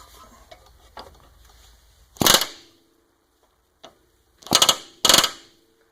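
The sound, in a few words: air impact gun loosening a frozen bolt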